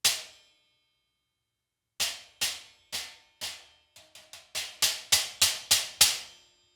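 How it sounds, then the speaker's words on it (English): Bright, trashy Meinl stacked cymbals, an 8-inch atop a Temporal Stack, struck one at a time, a single hit, then a pause, then a run of about a dozen quick, sharp, ringing hits. "if I had a little 8-inch on top with the Temporal Stack 2, it gives it a little different flavor"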